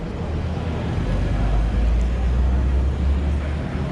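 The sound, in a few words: Toyota GR Supra 3-litre straight six driving away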